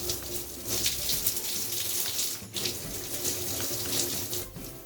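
Water pours steadily from an RGB LED shower head with an LCD temperature display, a close, continuous hiss and splash with no talking.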